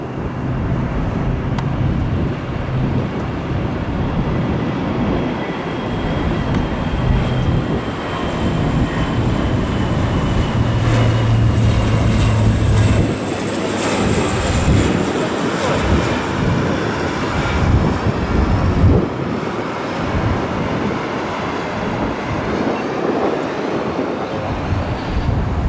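Military aircraft making a low pass with gear up over Kadena Air Base, a loud sustained jet roar that stays steady for the whole stretch, with faint voices talking underneath.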